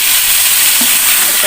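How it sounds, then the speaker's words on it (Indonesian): Spice paste of ginger, turmeric and chili is dropped into hot oil for Betawi sayur bekasem and sets off a loud, dense, continuous sizzle and hiss, close up, with no talk over it. "minyaknya sudah panas ya. Kita masukkan bumbunya ya guys."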